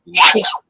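A single short sneeze lasting about half a second, close and fairly loud, with a sharp breathy burst spread across the range. It stands alone with no talk over it.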